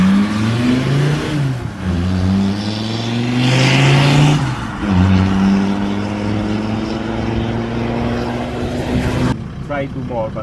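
A VW T4 van fitted with a hybrid turbo and big injectors revs hard and accelerates, its engine note climbing in long rising sweeps, close and loud, with voices talking over it.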